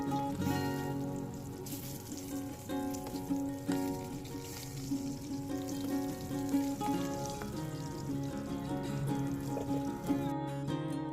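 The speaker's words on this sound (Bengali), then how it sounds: "কয়েকটা পটল আর একটা কাঁকরোল ছিল সেগুলোকে ভেজে নিচ্ছি" Pointed gourds and a spiny gourd fry in a pan, a steady crackling sizzle with scattered pops running throughout at moderate volume.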